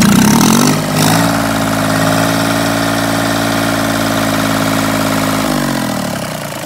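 A marine diesel engine runs loud and steady at raised revs while its raw water system is serviced, then its pitch sinks slightly near the end as the speed eases back.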